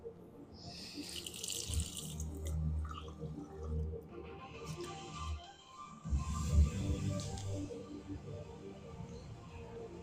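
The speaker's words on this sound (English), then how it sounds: "So I'm gonna put some water in here." Water runs from a tap into a measuring cup stained with ketchup, a gurgling splash that rises, pauses briefly mid-way, then resumes with uneven bubbling and close handling clatter.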